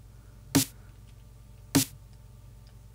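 Two punchy, layered glitch hop snare hits with EQ, spaced just over a second apart, close and bright, over a low, faint background hum.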